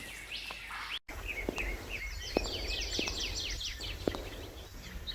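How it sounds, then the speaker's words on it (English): A superb lyrebird sings a varied, fairly faint stream of chirps, trills and whistles over background hiss, broken by a brief gap near the start. "This bird must be one of them. The superb lyrebird."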